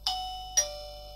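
An AI Orange wireless doorbell chime gives a quiet two-note ding-dong, two clear bell-like tones about half a second apart, fairly faint and with no talking over it.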